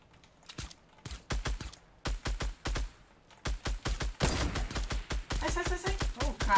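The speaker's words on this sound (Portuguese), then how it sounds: "Tô atirando de pistola, mano" Pistol fire in Fortnite: rapid single shots in uneven bursts, close and crisp, with a dense flurry of shots and effects near the end.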